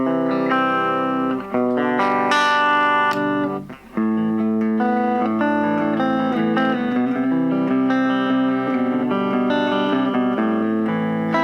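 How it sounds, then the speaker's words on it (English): An electric guitar plays chords and riffs through the distortion channel of a LEKATO AG04 portable amp, heavily distorted, loud and sustained, with brief pauses between phrases and some reverb. "before we try out the distortion or overdrive channel."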